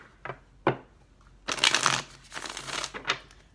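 Tarot cards are shuffled in a few separate bursts: two short riffle snaps, then a longer rustling shuffle and a couple more brisk flutters, close and alone without talk.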